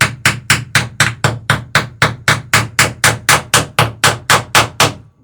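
Rivet gun hammering rivets into the aluminium skin of an Alpha Beachcomber aircraft under construction, a steady run of about sixteen loud, evenly spaced bursts close by, with no talk.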